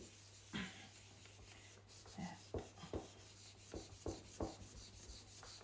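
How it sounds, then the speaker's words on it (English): Rubbing strokes on the middle of a scalloped gift card box, a series of soft scratchy swipes growing more frequent toward the end, close and fairly quiet with no voices. "Just give that middle a good rub"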